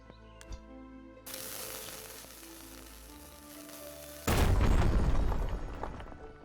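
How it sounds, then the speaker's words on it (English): An explosion goes off in the video game Mask of Mists. A hissing buzz builds for a few seconds before a sudden loud, broad blast that rumbles on to the end. "Wonder if that explosion hurts you."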